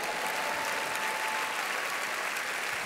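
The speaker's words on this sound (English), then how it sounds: "You can learn so much by listening to the clap." Steady, dense applause from a church audience at a Joyce Meyer service, continuous and fairly even throughout with no talking over it.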